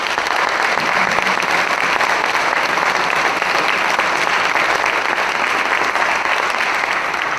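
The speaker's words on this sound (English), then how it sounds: "Let's give our candidates a big round of applause" An audience at a Hattiesburg mayoral candidate forum claps for the candidates, a dense, steady round of applause sustained evenly and loudly throughout.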